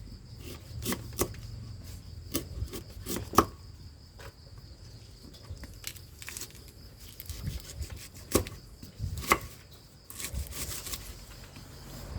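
Lemongrass being sliced with a knife on a cutting board while preparing salt-roasted shrimp: a series of sharp, irregular chopping taps up close, spaced through the clip over a quiet room background, with no talking.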